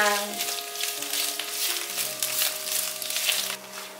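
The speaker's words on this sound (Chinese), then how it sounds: "姜末微微变色之后，放入香菇， 把香菇放进来煸香" Shiitake mushrooms hit a hot wok with minced ginger, giving a continuous close sizzle and frying crackle under light stirring, with faint tonal background music throughout.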